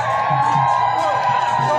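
Crowd at an outdoor political procession in Odisha, continuous dense cheering and high ululating calls, loud and close, a few short bursts of whooping over the steady din.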